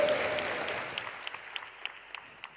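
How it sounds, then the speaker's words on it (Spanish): A church congregation applauds in a sustained wash of clapping that slowly fades, with a few sharper individual claps standing out toward the end and no speech over it. "Dele ese aplauso a nuestro Dios todopoderoso."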